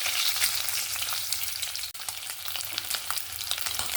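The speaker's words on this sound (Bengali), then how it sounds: "এবার ডিমগুলোকে ভেজে নেব। একটু ভালো করে লাল লাল করে ভেজে নেব ডিমগুলোকে।" Eggs fry in hot oil until browned for a Bengali egg curry, producing a dense, close, steady sizzle and crackle with scattered spitting pops and no voices.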